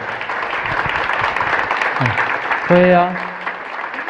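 Congregation applauding a children's choir at a Christmas cantata in a church, steady broadband clapping throughout, with someone speaking over it and a brief sung or held tone near the end.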